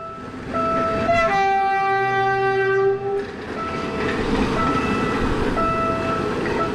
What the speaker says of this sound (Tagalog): Sakto tayo sa daan ng train.